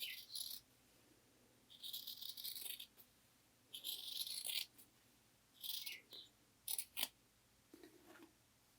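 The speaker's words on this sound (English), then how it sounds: "I think what I'm going to do is cut the arms off first" Scissors snip through the fabric of an old shirt, cutting off a sleeve, in several bursts of crisp cutting separated by short pauses, close and fairly quiet with no talking.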